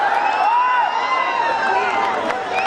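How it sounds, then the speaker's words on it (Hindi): A crowd cheers and whoops at a live outdoor stage show in Jaunpur, Uttar Pradesh, a steady, dense roar of many voices with rising shouts that holds loud throughout. "एक बारी जोरदार तालियां अपने खुद के लिए, कमाल के लोगों।"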